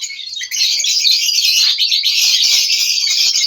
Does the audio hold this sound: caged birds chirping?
yes